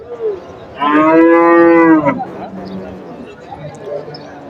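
A heifer lets out one loud, drawn-out moo close by at a weekly cattle market, followed by quieter low sounds and faint background noise.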